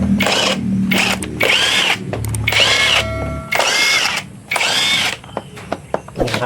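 A power drill backs out the screws on a scooter's air filter cover, whirring in several loud bursts separated by short pauses, with a background hum running under the first half.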